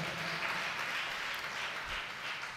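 Church congregation applauding, a dense, continuous wash of clapping heard from amid the crowd, fairly loud and steady throughout.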